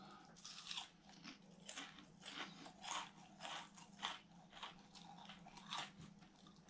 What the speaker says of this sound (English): crispy and crunchy are in the same, all at the same time